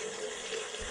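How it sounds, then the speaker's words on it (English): Water flowing steadily in the horror video game White Noise, a broad, even rushing wash that fills the short moment without any talk over it. "Oh, water."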